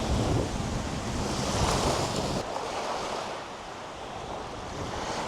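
Waves wash onto a beach on Panglao island while steady wind buffets the microphone, a continuous loud rush with a slight drop midway and no voices.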